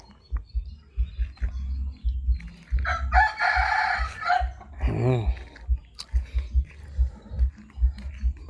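A rooster crows once, loud and close, with chickens clucking and scratching around it before and after the call.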